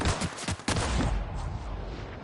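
Rapid bursts of gunfire from The Outer Worlds shooter game, with a dense volley of shots up front and a steady rumbling barrage continuing loud throughout.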